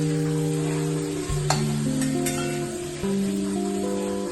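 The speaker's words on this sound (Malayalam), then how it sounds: "അപ്പം സബോള പെട്ടെന്ന് വാടാനായിട്ട് ഒരു നുള്ളു ഉപ്പ് വെതറിയ ശേഷം നന്നായിട്ടൊന്ന് വഴറ്റിയെടുക്കുക." Sliced onions with a pinch of salt sauté in hot oil for a chicken curry, giving a steady, close sizzle with occasional stirring under background music.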